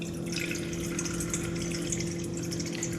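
Water is poured into a mixing bowl while making sourdough dough for a country loaf, a steady rushing stream that runs continuously over a low electrical hum.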